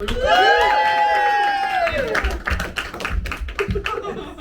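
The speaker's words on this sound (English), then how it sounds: "Round of applause for Shane." Audience at an improvised stand-up comedy show cheering and whooping at first, then breaking into scattered, uneven applause with individual claps standing out.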